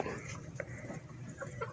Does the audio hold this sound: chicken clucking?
yes